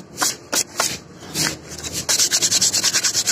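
Close, rhythmic rubbing strokes as a motorcycle mag wheel is polished to remove dirt before repainting, a few separate swipes at first, then a quick steady series of scrubbing passes, with no talking.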